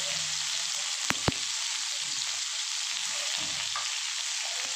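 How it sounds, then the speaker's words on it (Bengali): Pointed gourd fries in a little oil with turmeric, Kashmiri chilli and salt, giving a steady sizzle with a couple of sharp spoon taps and soft stirring scrapes, and nobody talks. "দিয়ে আমি পটলগুলোকে চটি ভালো করে ভেজে নেব"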